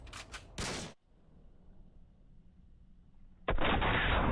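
A sniper rifle quickscope shot in Modern Warfare 2, with sharp, loud game gunfire bursts at the start, a brief quiet stretch, then another abrupt loud blast.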